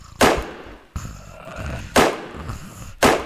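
Gunshots in a zombie shooter game, four sharp, loud blasts spaced about a second apart, each followed by a short decaying tail with a low background between shots.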